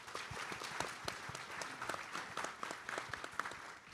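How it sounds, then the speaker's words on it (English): An audience at a symposium bursts into applause, a steady wash of many hands clapping at moderate distance with scattered sharper claps throughout. "Let's give Freddie a round of applause"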